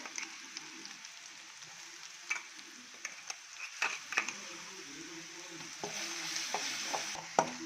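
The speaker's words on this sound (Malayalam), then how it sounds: "ഇതിൻ്റെ പച്ചമണം മാറുന്നത് വരെ ഇളക്കിക്കൊണ്ടിരിക്കും" Crushed ginger, garlic and green chilli fry softly in a pan for a beef curry, a low sizzle punctuated by scattered clicks and scrapes of a stirring spoon against the pan.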